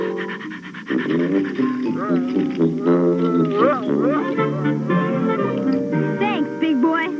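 Cartoon dog panting in quick, steady breaths under animated voices and music, continuous through the whole stretch.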